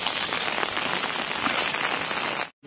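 Heavy rain pours down in a dense, steady hiss that stays loud and close throughout, then cuts off abruptly at the very end.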